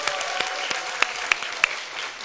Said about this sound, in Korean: 우리 반주자 세영이를 위해서 격려의 박수 한번 하겠습니다.